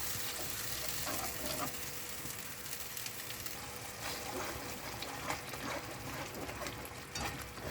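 Curry ingredients sautéing in oil in a pan for kireh fish curry, a steady close sizzle and frying hiss with faint stirring scrapes running throughout, no talk.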